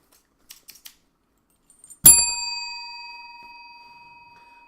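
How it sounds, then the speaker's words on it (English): A single bright bell strike rings out loud and clear, its metallic tone decaying slowly over a couple of seconds, preceded by a few faint light clicks. "The bell doesn't belong in that"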